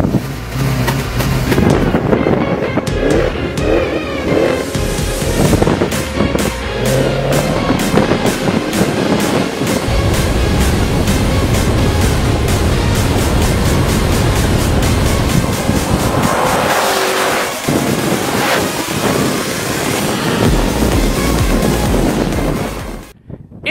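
A Maserati Levante Trofeo SUV drives along, its engine and road noise loud and steady with wind buffeting, a brief dip near the end, and no voices.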